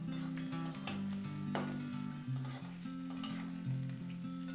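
Onions sizzle steadily in a pan with cinnamon and cardamom for a Bengali-style chicken liver and gizzard dish, a constant close frying hiss under a layer of background music.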